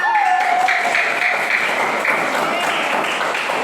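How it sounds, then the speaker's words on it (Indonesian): A classroom of students applauding at the end of a lesson on the properties of light: a dense, continuous wash of clapping throughout, with children's voices and a brief whistle-like tone mixed in. "Beri tepuk tangan untuk kalian semua."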